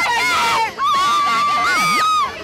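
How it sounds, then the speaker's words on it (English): A small crowd of fans in the front row at a vert skateboarding ramp session in Brighton scream loudly and continuously in high-pitched, wavering voices as a skater drops in, with shouting babble mixed through. "He's got a little gaggle in the front row, scream every time he drops in."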